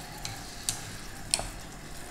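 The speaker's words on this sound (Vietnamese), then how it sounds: "Rồi khi nó sôi thì mình trộn cho nó đều ha." Braised pork simmering without added water in a pot over a wood-fired stove, stirred so it cooks evenly: a steady bubbling hiss with a few sharp scraping clinks of the utensil against the pot, close up.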